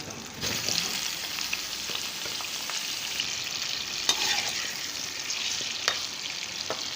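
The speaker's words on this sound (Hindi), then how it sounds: "आलू को अच्छी तरह से फ्राई कर लेना, थोड़ी सी तेज़ आंच पे" Potatoes fry in hot oil over fairly high heat, a continuous close crackling sizzle with occasional stirring knocks.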